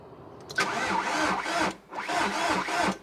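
A Seat Ibiza engine cranks over in two rough, whirring bursts, churning briefly each time without settling into a steady run.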